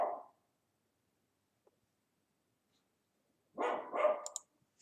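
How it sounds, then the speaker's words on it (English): A dog barks twice, once at the start and again as a louder double bark near the end, separated by several seconds of silence. "we'll wait for the dog to stop barking"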